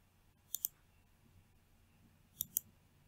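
Computer mouse clicks while drawing molecular structures in ChemDraw, heard as two close pairs of sharp, faint clicks about two seconds apart in a quiet room.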